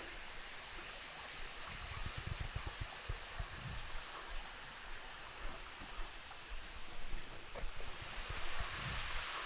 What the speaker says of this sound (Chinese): 在旁边这里还有一条小溪